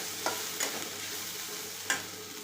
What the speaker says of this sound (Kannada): 1 ಬೆಳ್ಳುಳ್ಳಿ ಬೆಳೆಯನ್ನು ಹಾಕಿ ಹುರ್ಕೋತೀನಿ